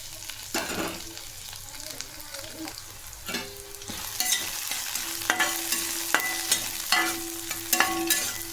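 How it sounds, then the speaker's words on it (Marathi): Taro leaf stalks fry and sizzle in hot oil in a pan while being stirred, a steady close-up crackle broken by scraping stirs and utensil knocks, with no talking. "हे पण तेलात 2 ते 3 मिनिट परतून घ्यायचं आहे छान फ्राय करून."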